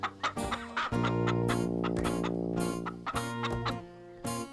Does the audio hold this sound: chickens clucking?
yes